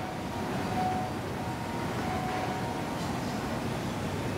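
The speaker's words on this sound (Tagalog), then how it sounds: "So ito yung train." Train passing by at midnight near a drydock in China, a steady low rumbling roar with faint metallic tones, fairly quiet and continuous with no talking.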